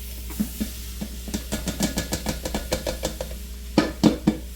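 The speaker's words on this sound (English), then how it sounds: "Putting in our peppers and onions right in the pot." Peppers and onions sizzle and crackle in a hot pot, with a run of sharp, rhythmic stirring clacks and bursts of frying close by and no talk.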